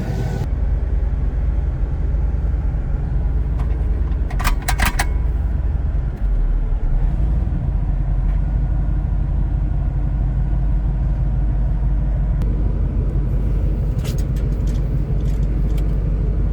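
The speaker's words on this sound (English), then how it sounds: "I'm gonna take you guys over in the 87 LS Swapped D150" A 1987 Dodge D150 pickup with a swapped-in LS V8 on the move, heard as a steady, low engine drone and road rumble all the way through. Faint rattles and clicks now and then, and no talking.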